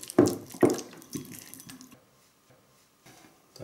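Vodka pours into a container for a birch-bud infusion: a couple of splashy glugs up close, then trailing trickles and faint drips fading into near silence.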